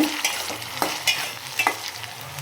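Apple pieces frying in a pan, with steady sizzling under repeated scraping stir strokes at a brisk, uneven rhythm, close and fairly loud, with no talking.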